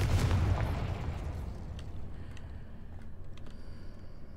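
A Confringo spell blast in Hogwarts Legacy, a loud booming explosion right at the start that rolls off into a long decaying rumble with faint crackling debris afterward.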